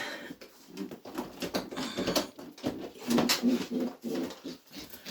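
Older breeding pigeons coo in low, throaty repeated phrases close by, the murmuring calls overlapping in an irregular rhythm with light rustling and mechanical clicks around them.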